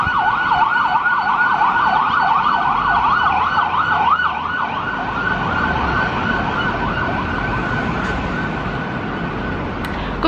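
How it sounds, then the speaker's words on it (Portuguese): A wailing ambulance siren sweeps steadily up and down, loud and close at first, then easing slightly as it passes over a constant hum of road traffic. "Pausa pra ambulância."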